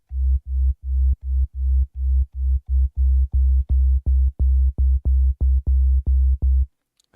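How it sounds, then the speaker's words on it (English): A smooth synthesizer sine tone from a Roland P-6 plays a run of about twenty evenly spaced short notes, each with a soft attack and quick release, then stops. "Yeah, the sine wave tends to be very smooth."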